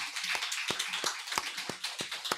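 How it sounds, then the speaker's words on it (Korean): A church congregation claps in unison, keeping a steady rhythmic beat of sharp claps at a moderate distance. The clapping is fairly faint. "자, 하나님 앞에 영광의 박수를 드리겠습니다."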